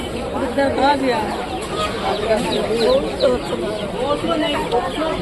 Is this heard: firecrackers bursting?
no